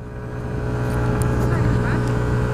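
A Yamaha X-Max 125 scooter carrying two riders labours up a very steep hill, its engine droning steadily and loud under rushing wind, with a rider talking over it.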